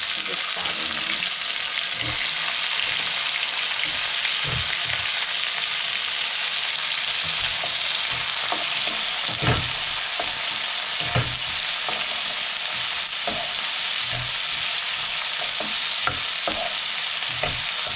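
Onion, ginger and green chillies sizzle steadily in a hot pan for an eggplant curry, with a constant broad hiss and scattered scraping knocks of stirring throughout, no talking.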